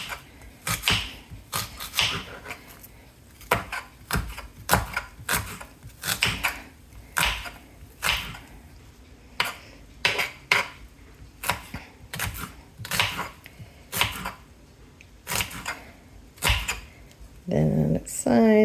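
A knife cuts raw chicken into strips on a board in a kitchen, making a steady run of sharp, close tapping chops at an even, quick rhythm.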